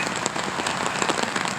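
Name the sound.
rain falling while jogging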